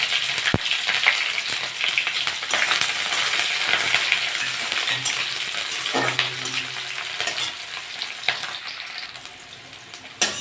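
Green chillies and onion sizzle in hot oil with five-spice (panch phoron), frying steadily and close up with occasional stirring clatter, while a Bengali prawn curry with greens, potato and pumpkin is being made; no one speaks.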